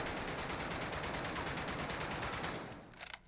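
Rapid automatic gunfire from a weapon in Warzone, a dense fast burst of shots running for a few seconds before cutting off, followed by a couple of faint trailing clicks.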